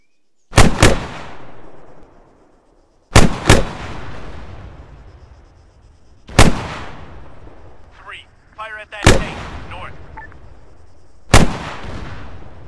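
Heavy weapons fire at a tank in military combat on the Ukrainian-Russian border: five loud, sharp blasts spaced a few seconds apart, each with a long rumbling decay, and a brief voice between the fourth and fifth.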